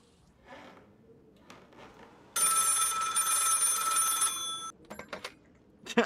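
A telephone rings in a VR horror game, one long loud electronic ring lasting about two seconds after faint quiet sounds, followed by a few short clicks and bumps.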